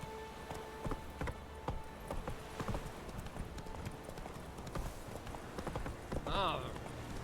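Horse hooves clip-clopping in The Witcher 3, a steady run of hoofbeats close by, with a brief whinny near the end and someone talking over the trotting.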